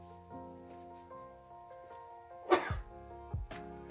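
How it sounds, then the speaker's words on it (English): A single cough bursts out over quiet background music during a live crochet session making an amigurumi treasure chest, followed by a smaller throat sound a moment later. "Lots of cough."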